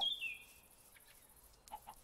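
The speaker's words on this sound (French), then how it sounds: "Par contre, il y a beaucoup de poules." Chickens in the Dino World video game clucking and chirping, with a short high squawk at the start and a couple of soft clucks near the end, fairly faint over a quiet background and no talk.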